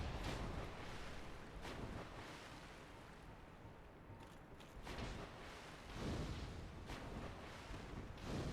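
Fire attacks in Dark Souls roar as broad, rumbling whooshes that swell and fade in several surges over a constant low background.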